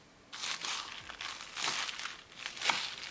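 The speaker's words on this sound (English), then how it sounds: "More Palak going into mixture. Some mint leaves." Fresh spinach and mint leaves tipped into a pakora mixture give close, soft crinkling and rustling in several bursts over about three seconds, with no talking.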